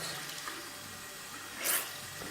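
Lukewarm tap water runs quietly for rinsing makeup brushes, a faint continuous trickle with a short louder gush partway through and no speech.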